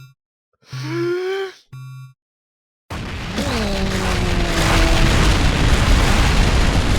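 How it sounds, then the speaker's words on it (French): Two short tonal blips are followed by a huge, sustained roaring blast with a descending whine layered through the rumble: a nuclear bomb explosion in a Minecraft mod. "Regardez-moi cette explosion nucléaire."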